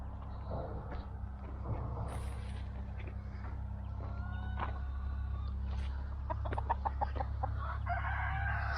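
Several chickens cluck and squawk nearby in a steady farmyard chorus, with short bursts of higher calls and some crowing-like cries over a low background hum.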